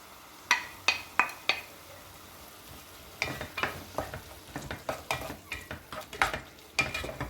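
Fried onions with tomato, black pepper, salt and paprika get stirred in a pan: a run of sharp spoon scrapes and clinks against the metal over a soft sizzle, near and fairly brisk, with no voices.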